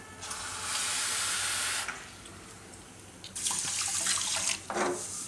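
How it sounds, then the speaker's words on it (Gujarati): Water pours in two bursts from a tap into a pan of sugar, a bright rushing splash separated by a short pause. "અને એમાં આપણે ખાંડ બુડે એટલું પાણી નાખીશું."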